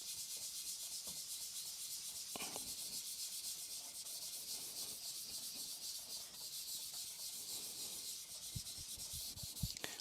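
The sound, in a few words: rust eraser rubbing on a whetstone to clean it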